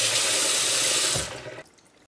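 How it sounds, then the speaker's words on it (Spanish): Running kitchen tap water splashes steadily over vegetables and leek leaves being rinsed in a sink, loud and close for over a second before the flow cuts off, leaving faint residual drips. "Y aclaro bien todas las verduras bajo el grifo"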